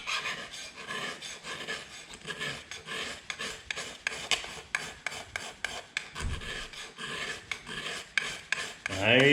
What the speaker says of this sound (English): once you've seen one corner being scraped, you've seen them all